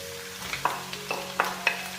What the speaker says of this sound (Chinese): 翻炒香